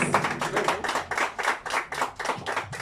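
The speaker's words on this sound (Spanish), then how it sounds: "Y aplauso fuerte, señores." Audience clapping at a mariachi show during a birthday celebration, rhythmic hand claps in regular bursts, fairly close and moderately loud, with no voices over it.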